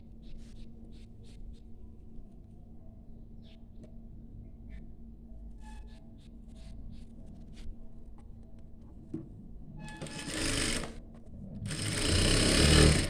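Sewing machine stitching an inskirt, quiet low mechanical whirring with light taps at first, then two loud fast bursts of rapid stitching near the end, heard close and without talk.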